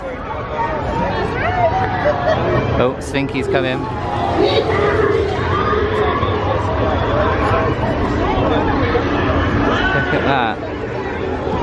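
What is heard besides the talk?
busy theme park crowd chatter at Toy Story Land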